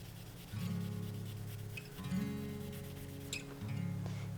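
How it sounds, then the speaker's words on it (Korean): Steady abrasive rubbing of sponge sandpaper on glossy resin jewelry, close up, in long back-and-forth strokes with short pauses between passes, over a low background hum. "스펀지 사포로 이제 이 사포 부분 면을 이용해서 이 광택 부분을 이렇게 밀어주면은"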